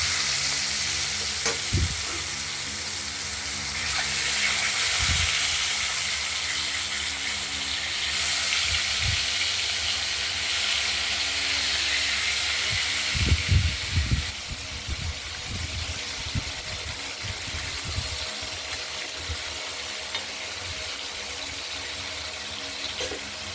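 Pieces of katla fish dropped one by one into a hot pan of oil, giving a steady bright sizzle with occasional thuds and sputters as each piece lands.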